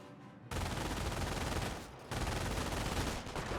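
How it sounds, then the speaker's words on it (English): Gunfire rattles in a Company of Heroes 1 battle between Wehrmacht and US forces, a dense, sustained burst of shots that pauses briefly and then resumes just as loudly. "Wehrmacht sniper firing away."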